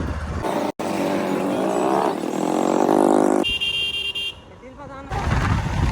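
A motor vehicle engine starts and runs with a loud, rough roar close by, briefly cutting out, followed by a short higher-pitched horn-like tone and more engine noise.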